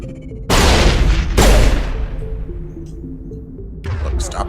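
Gunfire in the Mass Effect video game: two heavy blasts fire in quick succession and leave a long rumbling decay, followed by further shots near the end.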